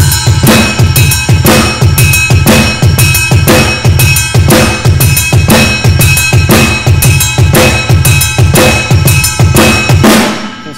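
Slow practice groove of a song on a drum kit, with the snare added. Loud, close, evenly repeating drum hits run steadily for about ten seconds, and cymbal wash rings over them.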